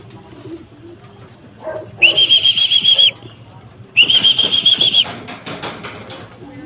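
Racing pigeons arrive at the loft during a 141 km race from Caranglan, Nueva Ecija, with two bursts of loud, steady whistling and a flurry of wing flaps over soft cooing and faint background chatter.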